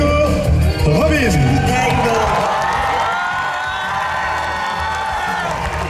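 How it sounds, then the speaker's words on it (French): Audience at a One Piece cosplay parade at a Japan Addict convention cheering and whooping with a swelling roar of crowd noise, loud and continuous, voices over an announcer's hall acoustics. "Et on applaudit quand même"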